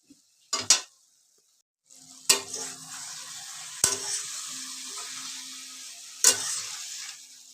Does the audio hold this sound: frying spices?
yes